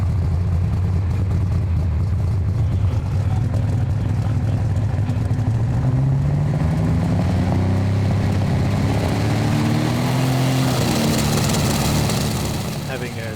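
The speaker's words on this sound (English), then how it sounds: "Engine is really running bad." A tractor-pulling tractor called Red Alert, from England, runs roughly at a Danish pulling event, a loud rumbling engine note with wavering pitch that rises and falls unevenly for several seconds.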